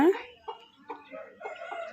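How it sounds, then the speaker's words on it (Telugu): A chicken clucks in a few short, soft bursts, close by, with a brief higher squawk at the start. "కోడి చూస్తున్నావా నువ్వు"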